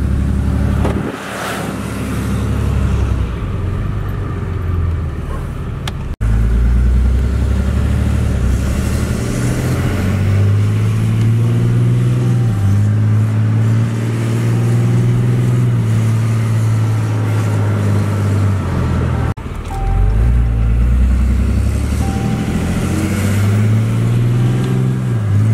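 A Ram pickup truck engine drones loudly and steadily, rising and falling in pitch as it revs, with a brief break midway before picking up again.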